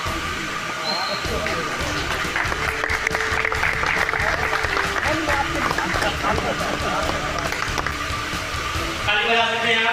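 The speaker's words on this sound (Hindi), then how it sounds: "ताली बजा सकते हैं आप" Audience at a temple-cell district seminar in Mehrauli clapping to welcome an MLA, sustained crowd applause with a speaker talking over it through a loudspeaker in an echoing hall.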